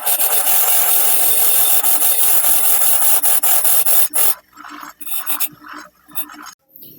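Hand filing of threads off a wooden toy axle while it spins against a wheel, loud rapid rasping strokes in a steady run, then slowing into shorter separate scrapes with brief pauses.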